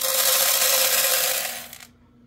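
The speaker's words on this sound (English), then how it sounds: "we're gonna add a cup of coffee beans" Coffee beans pour in a dense, rattling rush into the hopper of a Terra Kaffe TK-02 super-automatic espresso machine, a steady close-up clatter that thins and stops near the end.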